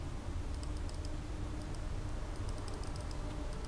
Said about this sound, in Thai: พยายามแต่มันคลิกเมาส์เลยนะฮะ